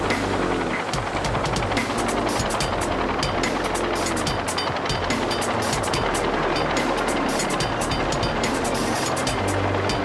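Loud, steady helicopter rotor roar with dense broadband noise throughout, close and continuous, with no voices.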